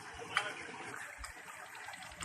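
Water gushes steadily from a small 4-inch solar-powered tubewell pump in Pakistan, a continuous, fairly quiet rushing stream with no voices over it.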